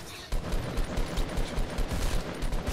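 Rapid automatic rifle fire from a hit scan assault rifle in Fortnite Battle Royale, a fast, even stream of close, punchy shots with no pause, heard alone.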